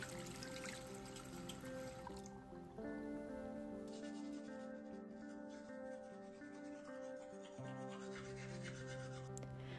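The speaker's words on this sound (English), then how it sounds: "I come back into our bathroom and go ahead and brush my teeth" Teeth being brushed in a bathroom, a faint, steady scrubbing and rubbing with hints of dripping water, quiet under soft background music.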